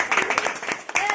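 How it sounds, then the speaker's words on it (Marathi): Family members clapping around a birthday cake at a home celebration, quick uneven hand claps close by, mixed with overlapping chatter and voices. "हा टाळ्या वाजवा की सगळेजण"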